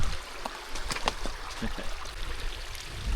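A waterfall rushes in a steady broadband wash of falling water, close and continuous, with a voice talking over it.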